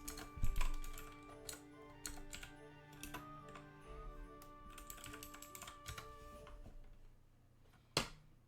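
Rapid keyboard typing in bursts with pauses during a digital drawing session, close and fairly quiet, with one sharper clack near the end and no talking.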